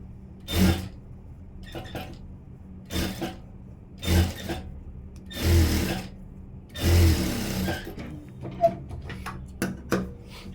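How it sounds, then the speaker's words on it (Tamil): A sewing machine runs in short bursts while stitching along the edge of a blouse front, each run a rapid mechanical whir with quiet gaps and small clicks between, close up and alone. "இப்போது ஓரமாக தையல் போட்டுக்கிறேன்"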